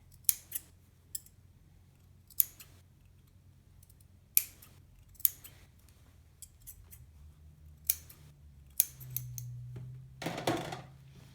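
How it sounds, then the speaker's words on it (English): Sharp scissors snipping into a fabric seam allowance at a neckline, clipping up to the stitching: a series of crisp single cuts spaced a second or so apart, with a brief rustle of cloth handling near the end. "clipping every inch or so right up to but not through the stitches"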